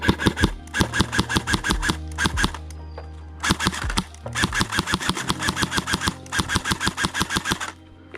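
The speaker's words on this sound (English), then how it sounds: "that was the shooting test of the CYMA AK-105" A CYMA AK-105 (CM040D) airsoft electric gun fires 0.2 gram BBs in several loud, close full-auto bursts of rapid mechanical cycling, separated by brief pauses.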